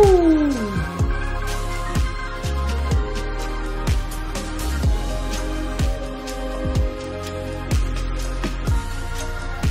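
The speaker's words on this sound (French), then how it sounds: "C'est un son d'orgue un peu modifié, tu vois, un peu poudreux." Keyboard played with a slightly modified, powdery organ tone during a live studio music performance, sustained chords over a steady low beat with sharp percussive hits, loud and continuous without talking.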